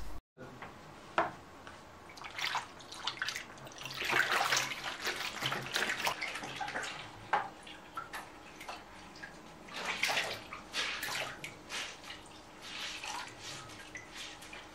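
Water splashing and running as printed fabric tea towels are washed by hand, close sloshing and dripping that swells and fades in uneven bursts.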